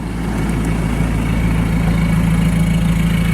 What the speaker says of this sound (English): Noisy Sidex exhaust.